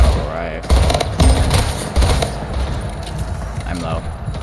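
Rapid carbine and battle rifle fire from the sci-fi portal shooter Splitgate plays as continuous gunfire in a match, mixed with game effects and a voice talking over it.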